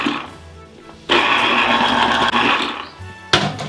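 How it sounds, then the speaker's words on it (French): A lemon half pressed in a hand lemon press in a home kitchen while making creamy lemon pasta, giving a steady, close grinding and squishing rasp lasting about two seconds, then a brief second burst. "Presse citron et on presse sans se presser."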